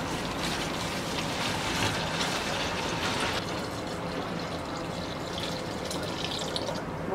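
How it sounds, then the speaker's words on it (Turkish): Brine poured into a 5-litre plastic water bottle, a steady continuous splashing and gurgling pour heard close up and filling the whole stretch without talk. "İçindeki bu tuzlu suyu içerisine boşaltıyorum"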